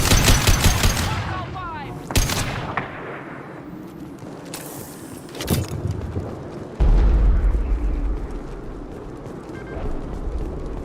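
Gunfire in the Mass Effect 2 video game comes in loud, sharp bursts and single shots spaced across the scene, with a brief voice near the start and a heavy rumbling blast toward the end.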